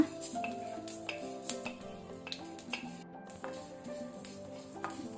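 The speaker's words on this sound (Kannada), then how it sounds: "ಜೀರಿಗೆ ಕೊತ್ತಂಬರಿ ಒಳ್ಳೆ ಕೆಂಪಾಗಬೇಕು, ಅಲ್ಲಿ ತನಕ ನಾವು ರೋಸ್ಟ್ ಮಾಡುವ." Cumin and coriander seeds with mustard seeds roasting in hot oil over a low to medium flame for a Mangalorean crab curry, a soft, steady sizzle with scattered small crackles and light utensil clicks, close and quiet.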